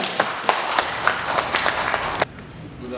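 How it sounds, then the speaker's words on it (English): Round of applause from a legislative caucus audience as a representative comes up, with distinct sharp claps standing out over a crowd patter before cutting off abruptly near the end. "Let's give him a round of applause"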